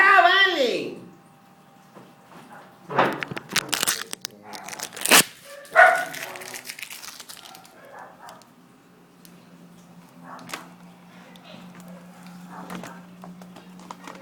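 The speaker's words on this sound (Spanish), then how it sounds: "El perro se pudo poner a ladrar en otro momento." A dog barks in a short, sharp burst of several loud barks at moderate distance in an indoor setting, with a brief human voice at the start and quieter room noise afterward.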